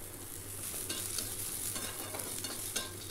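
Onions fry in a pan with a little oil, a faint steady sizzle broken by soft scraping strokes as they are stirred, with no voices.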